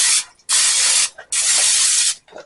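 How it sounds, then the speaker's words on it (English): Cooking spray hissing onto a pan in a home kitchen, two long close bursts with a short one before and a brief tail after. "I'm going to spray that"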